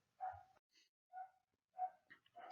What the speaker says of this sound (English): Apologies if you can hear my dog barking in the background.